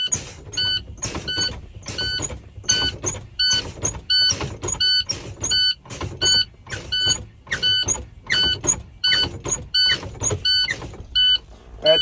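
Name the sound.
truck air brakes being fanned during inspection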